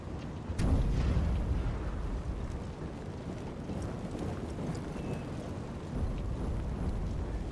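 Artillery in Napoleon Total War: a single sharp cannon report near the start, then a steady rumbling battlefield wash of distant firing and movement, with no talk.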